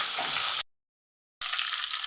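Mustard seeds and chilies splutter and sizzle in hot oil for a green chili kuzhambu. Two loud, dense bursts of crackling are split by a brief silent gap.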